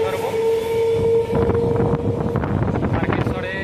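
Local train running toward Tarakeswar, a loud steady rumble of wheels and carriages with wind buffeting and a sustained tonal hum, the rattle growing busier toward the end.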